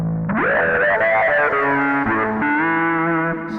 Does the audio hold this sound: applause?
no